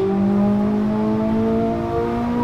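Ferrari SF90 Stradale engine in the racing game Assetto Corsa, a steady loud drone with rising harmonic tones as the car accelerates, continuous and close throughout with no talking.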